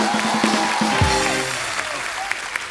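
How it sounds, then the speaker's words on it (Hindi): Studio audience on a Hindi comedy talk show breaks into applause, a brief dense burst of clapping with a low thump near the start that settles into lighter, steadier clapping. "जोरदार तालियां हो जाए जरा।"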